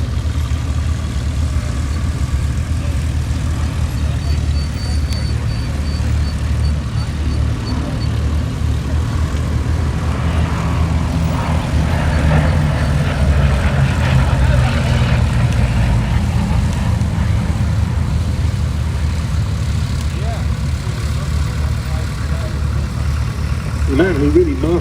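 Low, steady droning rumble of Bristol Blenheim piston engines at the IWM Duxford airshow, continuous and fairly loud throughout, swelling slightly mid-way, with a voice talking over it.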